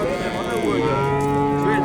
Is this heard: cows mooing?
yes